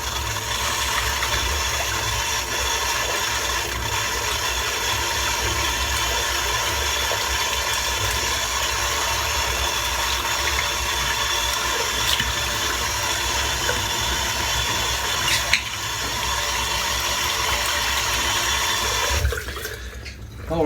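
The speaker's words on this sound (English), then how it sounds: "Just going to rinse this tin out." Steady running water from a tap while a shaving soap tin is rinsed out, a continuous close hiss and splash that holds evenly for about twenty seconds before cutting off near the end.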